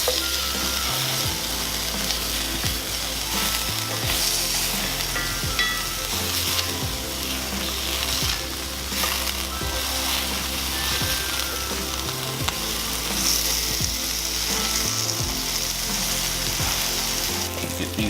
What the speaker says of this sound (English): I'm going to fry up the rest of the sausage